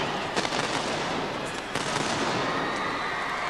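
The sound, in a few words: Royal Navy field gun being fired in a gun-run competition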